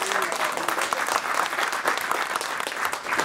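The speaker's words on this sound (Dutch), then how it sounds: "Geef hem een hartelijk applaus." Studio audience gives a warm round of applause welcoming a newly chosen party list leader as a guest on a political café talk show; continuous, close, full-bodied clapping from a sizable crowd throughout.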